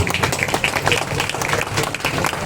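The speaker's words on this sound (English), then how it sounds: "Big round of applause for the family, please." Crowd applause at a car dealership launch event for a new MG Hector, steady clapping from a gathered audience with a voice speaking over it.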